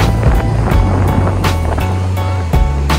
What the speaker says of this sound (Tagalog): Lakas po ng alon dito.